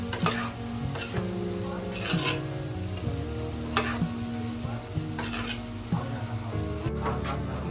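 Ground masala paste being stirred into val bean curry in a sizzling pan, with repeated scraping strokes and a spoon knocking against the pot, heard close and moderately loud, with no talking.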